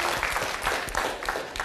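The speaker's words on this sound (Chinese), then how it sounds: "给自己一个掌声鼓励一下好吧" A room of seminar participants in a memory-training class breaks into steady applause, a dense, even patter of many hands clapping together for under two seconds with no talk over it.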